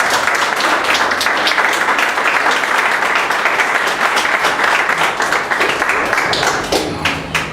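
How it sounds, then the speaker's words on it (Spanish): Church congregation applauding during a sermon, a steady dense wash of many hands clapping that holds loud throughout before thinning near the end. "Denle un aplauso al Señor si le está entendiendo"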